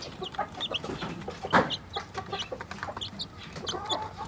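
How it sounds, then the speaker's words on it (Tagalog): Newly hatched, hungry chicks peeping, a busy run of high, quick cheeps overlapping at close range, joined by soft clucks from a hen, with no talk. "gutom na ang mga sisiyo."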